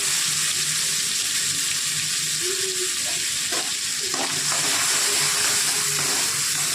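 Lemon juice poured into a hot pan of sizzling tempering with asafoetida, giving a steady close frying hiss with a few brief splashing and stirring bursts partway through.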